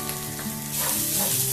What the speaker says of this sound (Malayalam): ചിക്കൻ ഒരു 2-3 മിനിറ്റ് ഒന്ന് മീഡിയം ഫ്ലെയിമിൽ തന്നെ ഇളക്കി കൊടുക്കുക.